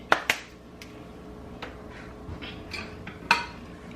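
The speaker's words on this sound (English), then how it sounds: "right now I'm just kind of scraping down the sides of the pot" Spoon scraping down the sides of a pot of chicken, sausage and seafood gumbo: a few sharp metallic clinks and taps, close and fairly quiet, with soft scraping between them.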